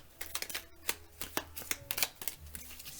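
Tarot cards are shuffled by hand, with a rapid series of close, crisp riffles and slaps in irregular bursts, fairly soft, with no speech over them.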